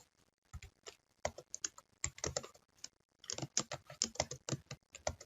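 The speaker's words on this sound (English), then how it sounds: "Remember, you got to type in." Close, brisk typing on a computer keyboard while entering data in a Microsoft Access database, irregular clusters of key clicks with brief pauses between bursts.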